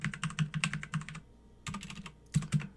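Rapid clatter of keystrokes on a computer keyboard while entering router configuration commands, a quick burst of typing, a short pause, then two more brief bursts, close and fairly quiet.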